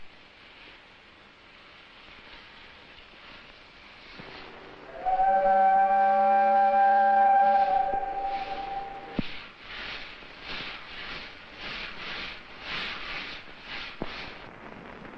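A train whistle sounds a long steady tone amid a low rumble in Iran in 1939, followed by rhythmic clacking as the train gets moving.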